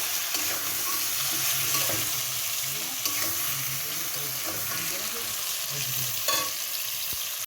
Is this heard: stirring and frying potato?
yes